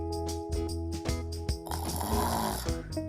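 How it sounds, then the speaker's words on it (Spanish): Loud, rasping snores from a dog in a children's story, repeating in a steady rhythm of deep rumbling breaths, close and alone. "Ronquido."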